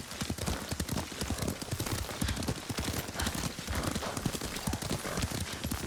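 Steady clip-clop of horse hooves at a riding gait in Ghost of Tsushima, a dense, continuous rhythmic patter heard up close with no talk over it.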